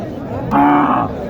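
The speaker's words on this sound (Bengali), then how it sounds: "এই যে একটি গরু" A single loud cow moo, close by, lasting about half a second over a murmur of background voices at a cattle market in Dhamoirhat, Naogaon, Bangladesh.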